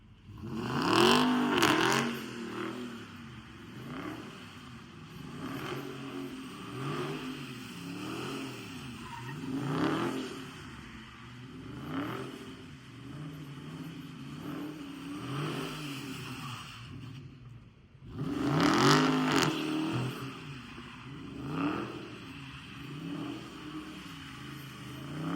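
A Dodge Hellcat Redeye roars through repeated throttle revs while spinning its tires, loud rising and falling engine surges with a couple of sharper peaks near the start and again around the middle.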